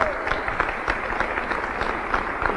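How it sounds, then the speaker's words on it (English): An audience applauds at an LGBT heritage day celebration in Cleveland, steady dense clapping that carries evenly through the whole short stretch without pause. "who is Luz Nareda Payo, can we give them a round of applause?"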